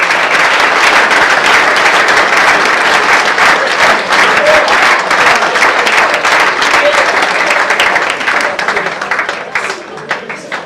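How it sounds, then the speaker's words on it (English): An indoor audience at a Mansfield Town FC football academy launch night gives a loud, sustained round of applause, dense clapping that holds steady for several seconds before gradually thinning out. "So if we can give Joe and Kieran a round of applause."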